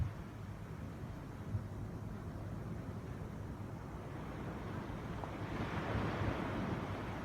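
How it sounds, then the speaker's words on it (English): Ocean waves ebb and flow in a soft, distant wash, a faint continuous surf rumble that swells slightly toward the end, with some wind noise and no voices. "The sounds of the ebb and flow of the waves of the ocean."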